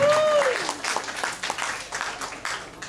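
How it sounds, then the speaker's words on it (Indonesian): An audience at a company member and leader training session in Jember breaks into applause, a dense patter of many hands clapping at moderate distance that starts strong and gradually thins, with a voice briefly heard at the start. "Aplaus dulu untuk Anda semua."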